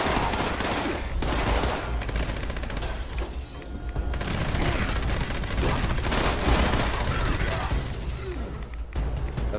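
Rapid automatic gunfire from a video game weapon in Fallout 76, loud and sustained in dense bursts with brief pauses, sharp reports stacked over a busy mix.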